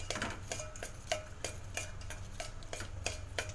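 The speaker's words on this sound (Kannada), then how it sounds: "ಬೆಲ್ಲ ಹಾಕೋಣ ಚೆನ್ನಾಗಿ ತಿರ್ಸ್ಕೊಬೇಕಿದ್ನ" A spoon scrapes and knocks rhythmically against a pot as jaggery is stirred into carrot payasam: quick, even strokes roughly every third of a second, close by and with no talk.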